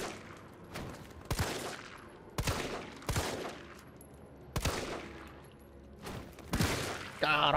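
Gunfire in the Resident Evil 3 demo video game comes as several loud, booming shots spaced irregularly, each with a short echoing tail, followed by a brief burst of crackling at the end.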